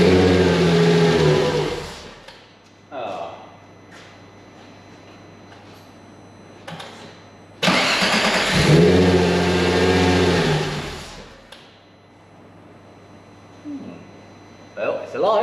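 A VW Golf Mk1 fitted with a VR6 engine cranks and fires on a test start, then revs loudly in bursts close by, dropping back between revs to quiet idle and workshop noise.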